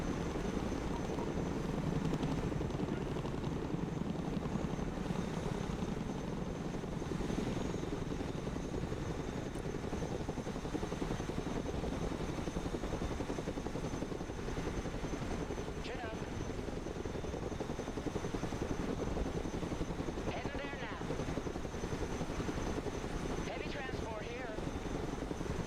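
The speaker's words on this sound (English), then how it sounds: "Let's go and recover it with our helicopter." A cargo helicopter in the video game Broken Arrow drones steadily throughout, with its constant rotor and engine hum lying under occasional game effects and faint speech.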